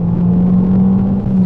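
A turbocharged 1.4-litre 16-valve Abarth 595 accelerates on a national speed limit road, a steady droning engine hum with low rumble heard from inside the car.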